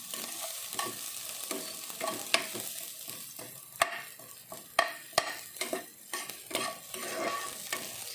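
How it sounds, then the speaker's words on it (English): Red onions and garlic cooking in a pan, with a steady soft sizzle broken by repeated sharp clicks and scrapes of stirring throughout, no voices. "Okay, now here come the onions,"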